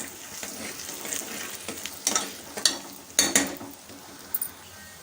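Dried red chili and curry leaves sizzle in hot oil while being stirred, giving a steady frying hiss with a few sharper spoon-scrape bursts close by, no talking.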